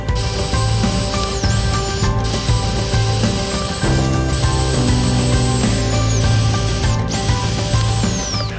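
A power drill whirs loudly and continuously with a grinding, ratcheting texture, drilling a row of holes about 3/4 inch apart for a homemade rabbit hay bin, pausing briefly a few times before revving up again.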